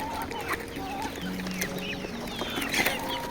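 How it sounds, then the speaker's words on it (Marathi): A flock of hens clucks in overlapping short calls while drinking dewormer-treated water in a poultry shed, a steady close chorus with a few louder notes near the end. "सर्व कोंबड्या कशा पाणी पितात"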